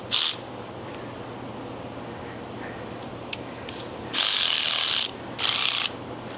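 A ratchet wrench with a 9/16 socket loosens the engine fan bolt on a Freightliner Cascadia truck, close, crisp clicking bursts of varying length separated by pauses, with faint background hum.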